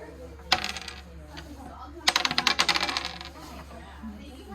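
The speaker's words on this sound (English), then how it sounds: "So you throw the dice again." Dice are thrown during a board game: a sharp clatter, then a longer burst of rapid rattling clicks as they tumble and settle on a hard surface, close by over a low steady hum.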